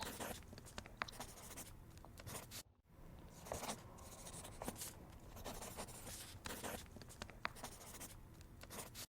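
Pen scratching across paper while handwritten study notes are written, a steady near run of dense strokes with a brief pause partway through before the writing resumes.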